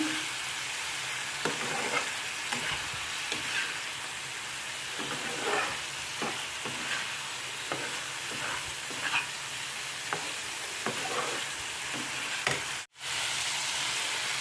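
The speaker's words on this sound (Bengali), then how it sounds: "আলু আগে থেকে ভেজে রেখেছিলাম এগুলো দিয়ে দিলাম এর মধ্যে আর মশলার সাথে ভালো করে মিশিয়ে নিচ্ছি" Fried potatoes are stirred with spices in a pan for a fish curry with lentil dumplings, giving a steady sizzle with repeated scraping strokes of the spoon throughout and a brief pause near the end.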